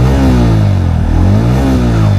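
A 160cc motorcycle's exhaust burbles steadily at a loud, close idle, with a low, even throb and a faint rhythmic pulsing that rises slightly in the middle. No one speaks.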